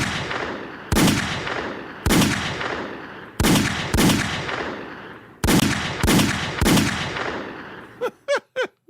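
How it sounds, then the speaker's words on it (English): Several loud, booming gunshots ring out one after another with echoing tails, followed by a quick burst of short sharp shots at the end. "It sounds like you're playing Call of Duty with the gun sounds."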